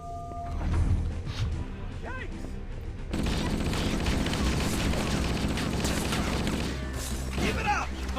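Rapid gunfire and clattering impacts from a firefight in the Halo CE VR mod, loud and sustained, with someone talking over the shooting.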